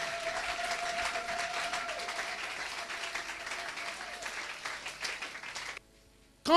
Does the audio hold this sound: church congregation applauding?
yes